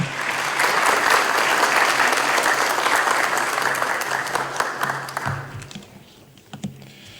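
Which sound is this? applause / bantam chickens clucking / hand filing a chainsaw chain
applause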